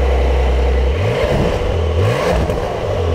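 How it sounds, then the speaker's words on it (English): Porsche 911 Carrera GTS exhaust roaring through repeated revs, a raw, slightly filtered engine note rising and falling in loud surges close by, with no talking. "And you also hear it roar as well."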